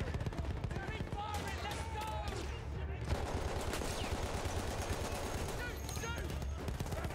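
Heavy gun in Battlefield 1 firing in dense, rapid bursts amid a constant battlefield din of gunfire, loud and continuous, with voices talking over it.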